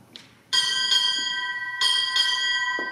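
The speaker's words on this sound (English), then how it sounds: "Boatswain strike four bells." A ship's bell struck by a boatswain rings four times in two close pairs, bright metallic clangs that ring on between strikes, loud and near against a quiet indoor ceremony background.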